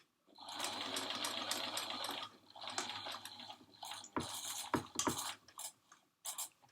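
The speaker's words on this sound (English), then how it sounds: "you want to really slow down when you get to the top so that you can be guiding your needle right into the point that you're sewing" A sewing machine stitches a godet into a panelled skirt, running steadily for about two seconds, then slowing into short stop-start bursts as the needle is guided to the point, close and without talk.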